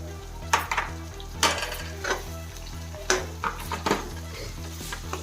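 Green peas go into a pan and get stirred for a breakfast upma, with a spoon scraping and knocking against the metal in irregular strokes over a soft sizzle and a steady low background hum.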